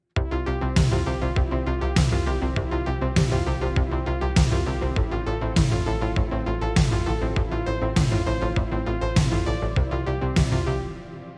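A synthesized bassline pulses in rapid, even sixteenth notes under a steady electronic beat with regular cymbal crashes, loud and driving throughout.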